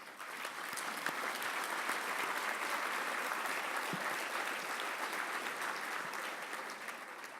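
An audience at an alumni awards evening gives sustained applause, a full, even wash of clapping that holds steady for several seconds before easing slightly at the end.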